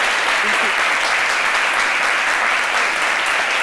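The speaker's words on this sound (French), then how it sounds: "Merci de l'applaudir." Steady, dense applause from a crowd fills the whole stretch, loud and continuous, with faint voices mixed underneath.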